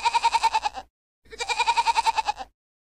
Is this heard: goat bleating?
yes